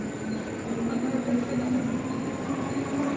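A Mumbai local train at a station gives a steady, close rumble of wheels and carriages with a faint squeal running throughout, with no talking.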